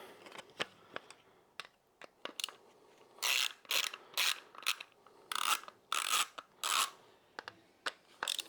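A T20 Torx screw on a 2024-or-later Harley license plate mount is turned loose with a ratcheting tool, giving close, bursty mechanical clicks and rasping in quick runs with short pauses between.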